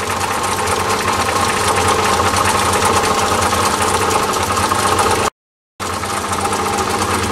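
A lathe motor, topping out at about 858 RPM, runs with a steady, loud mechanical hum and whine, with one brief silent gap before the same drone resumes.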